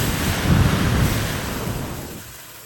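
Layered fire spell effect combining a blown-mic low rumble with the sizzle of water splashed on a heat element, a loud roaring whoosh that swells and then fades out over a few seconds.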